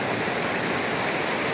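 River water near Manchanabele dam, flowing toward the Kaveri, rushes in a dense, continuous close wash with no pauses.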